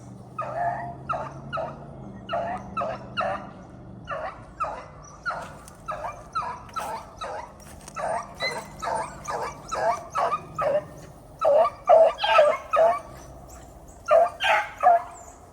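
Hunting hounds trailing a rabbit, barking and baying in repeated bursts, with irregular, overlapping yelps that grow louder and more urgent toward the end, heard at a moderate distance outdoors.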